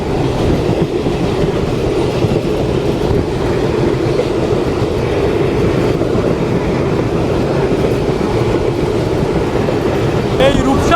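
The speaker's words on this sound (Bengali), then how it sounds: "দর্শক আমরা ইতিমধ্যে প্রবেশ করছি আমাদের আজকের যাত্রার সব থেকে সুন্দর জায়গা এবং সবচেয়ে ভিউ পয়েন্ট রূপসা রেলওয়ে সেতুতে" The Mongla Commuter train crosses the Rupsa railway bridge with a steady, loud rumble and rhythmic clickety-clack of wheels on rails, heard from on board, with a faint squeal near the end.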